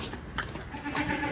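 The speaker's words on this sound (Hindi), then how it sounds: "ये बकरे की खूबसूरती देखें, काफ़ी खूबसूरत बकरा है" A goat on a cattle farm in Peshawar, one of the young goats kept for sale, bleats briefly up close against a noisy outdoor background.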